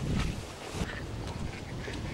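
Wild mallard ducks calling on open water during a hunt: a steady, moderately distant chorus of quacks and chatter, with no clear talk.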